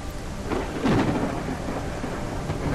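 Steady rain with a rolling rumble of thunder in the kayaking video game Kayak VR, a continuous downpour hissing throughout while the thunder swells and fades, with no talk.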